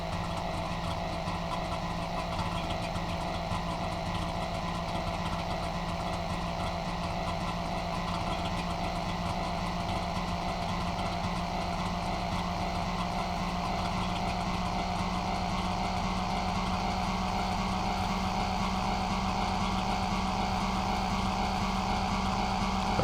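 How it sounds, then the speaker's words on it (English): Car engine from the driving game The Long Drive, a steady droning hum that holds at an even level throughout without a break, with no talking. "Engine noise is starting to get kind of irritating"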